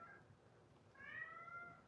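A house cat gives a faint, drawn-out meow in a quiet room, one soft rising call in the second half over low background hum, with no talking.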